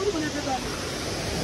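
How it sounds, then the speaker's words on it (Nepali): Shankar waterfall in Jumla gives a continuous, dense rushing roar of falling water, close and loud with no break. "Shankar Jharna is near"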